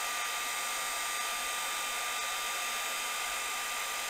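Heat tool blowing steadily to melt embossing powder, a constant loud airy whir with no change and no voices.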